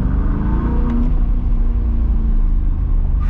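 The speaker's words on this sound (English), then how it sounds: "I just wanted to show you what the sound is like in the cockpit here from the new exhaust" Modified C8 Corvette exhaust heard from inside the cockpit with the windows down, a steady low droning rumble while cruising, continuous and fairly loud with no talking.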